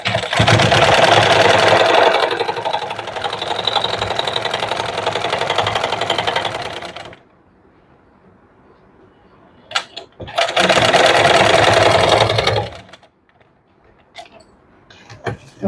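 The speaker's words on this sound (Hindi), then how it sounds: "बराबर रखते हुए स्टिच लगाना है।" An electric sewing machine stitches a princess-cut blouse in two loud, rapid whirring runs, the first about seven seconds long and the second shorter, separated by quiet pauses with faint handling clicks.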